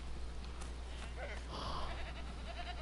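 Goats bleating in the video game Assassin's Creed III: a few short, wavering bleats rise midway through the clip over a steady game-world ambience, moderately distant.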